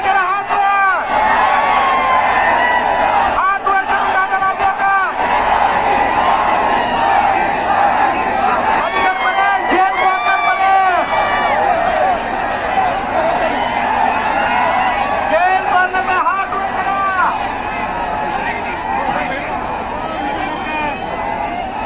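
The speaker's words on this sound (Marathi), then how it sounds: "प्रचंड गर्दी" A huge outdoor crowd at a Manoj Jarange Patil Maratha reservation rally in Parbhani, near Nutan ground, with loud, dense, continuous babble and shouting and voices rising and falling throughout.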